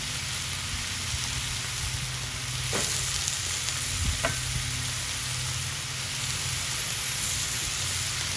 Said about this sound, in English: hit it with a little oil